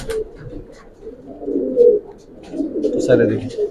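Pigeons in a loft coo in soft, low, repeated rolling calls, close by, with a couple of swelling bursts and faint background voices.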